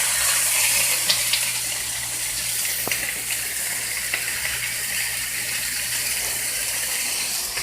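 Meat and onions fry in a pot on low heat for beef gravy, giving a steady, even sizzling hiss with a faint low hum underneath and a few small ticks.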